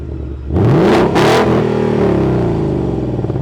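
Ford Mustang GT V8 revved in sport exhaust mode: a sharp double blip of loud, rasping engine roar near the microphone, settling into a steady, burbling idle.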